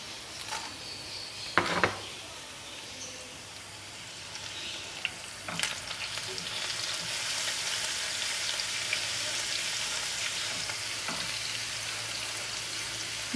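Garlic, cumin seeds and dried round red chillies fry in hot oil with a steady, soft sizzle, broken by a few sharp spatters and stirring clinks, with no talking.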